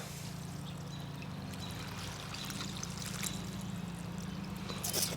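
Water poured from a watering can onto potted canna lily plants, a steady trickling splash with a low hum underneath, moderately close and continuous.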